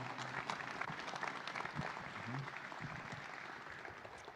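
Audience at a city's annual State of the City address applauds steadily, a broad wash of many hands clapping that stays even and moderately loud, with some talk underneath.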